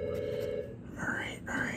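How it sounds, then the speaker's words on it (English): A telephone rings at a closed pizza shop, its electronic trill faint and intermittent beneath a person talking nearby. "Oh, the phone's ringing, but we are not open."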